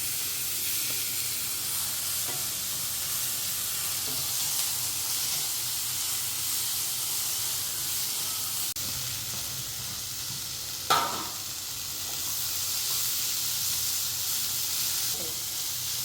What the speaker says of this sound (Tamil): அரை ஸ்பூன் இஞ்சி பூண்டு பேஸ்ட்டு போட்டுக்கிறேன்